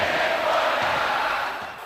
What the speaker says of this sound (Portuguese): revolta para a torcida cruzeirense que, de costas para o campo, protestou